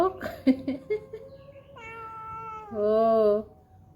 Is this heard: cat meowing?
yes